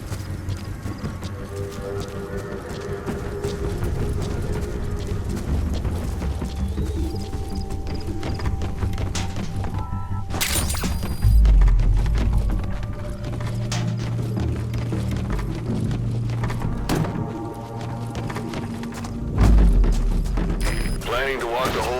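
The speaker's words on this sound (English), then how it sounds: "Planning to walk the whole wilderness on foot? Use your horse." A horse's hooves clip-clop in the video game Metal Gear Solid 5: The Phantom Pain. The rhythmic hoofbeats run under game music and mechanical effects, with two deep low booms partway through.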